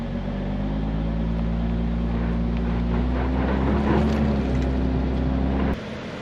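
A 2023 Lexus LX 600 Ultra Luxury engine drones steadily and loudly as it is given gas off-road with a slipping rear tire, the roar holding continuous over wind buffeting before cutting off abruptly near the end.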